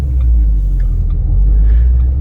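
A 2011 Shelby GT500 convertible with over 750 horsepower gives a loud, close, deep engine rumble under light throttle in first gear, holding steady without distinct revs.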